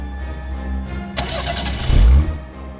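A car engine starts in a TV crime drama scene: a brief cranking burst, then the engine catches with a loud low rumble and rev before settling, with no one speaking.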